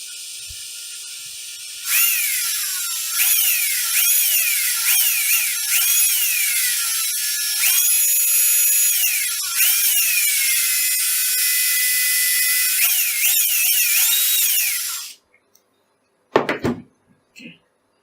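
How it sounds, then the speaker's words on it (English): A small electric drill boring a hole in soft plastic for a homemade soldering third hand, its high motor whine rising and dipping in pitch through a dozen seconds of steady drilling, then stopping, followed by a couple of faint clunks. "Use my judgment and drill a small hole here."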